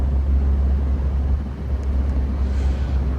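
Steady low drone of a 1964 MGB roadster's engine while driving, a dense continuous rumble with a brief dip in the middle, close and fairly loud, no voices.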